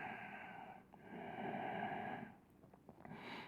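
Slow, steady breathing during a yoga pose, heard close up as an airy inhale rising in the middle and a softer release near the end, with no talk over it.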